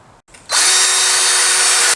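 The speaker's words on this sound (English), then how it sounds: "I can just drill all of the holes" A power drill bores holes into thin wooden boards, starting after a brief quiet moment and then whirring loudly and steadily at high pitch without a break.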